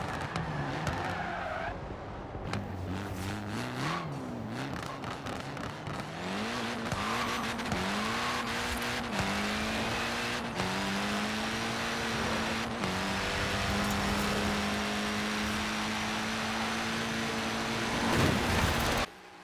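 A lightweight car of about 600 horsepower accelerates hard down a drag strip in Forza Horizon 4, its engine climbing through a run of rising gear pulls with brief tire squeal, loud and continuous, with no talk.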